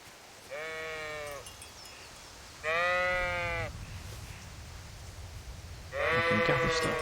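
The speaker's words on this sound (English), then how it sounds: "Oh look, sheep. They scatter if you run at them." Three separate sheep bleats, each about a second long and evenly spaced, sound clearly over a low ambient bed in the medieval video game Kingdom Come: Deliverance.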